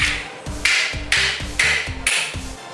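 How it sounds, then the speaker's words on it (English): Repeated heavy metallic hammer strikes knocking out a BMW X3 E83 driveshaft center support bearing, close and loud, landing roughly every half second in a steady rhythm with ringing clanks between blows. "you just hammer it out of there"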